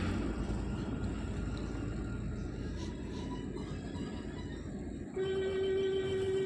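The Darjeeling toy train on its mountain line gives a steady, loud rolling rumble throughout, with a sustained horn-like tone sounding near the end.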